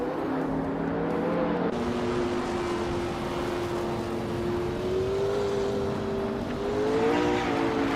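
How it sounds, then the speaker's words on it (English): A 2014 Corvette Stingray and rival street cars roar off the line at a race start in a racing video game, a continuous loud engine drone with rising and shifting pitch as the engines rev and accelerate. "New for Life is kicking things off from pole position in a 2014 Corvette Stingray, racing street cars from 2010 M"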